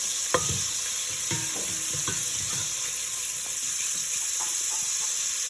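Garlic sautéing in a pan makes a steady sizzle throughout, broken by several utensil scrapes and stirring knocks near the start and middle, with no talking.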